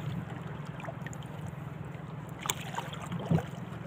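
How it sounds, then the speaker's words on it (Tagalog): A strong river current rushes steadily past where a fish trap baited with moss sits in the water, a continuous low broadband wash with a couple of brief louder splashes near the end. "Kasi malakas yung silig."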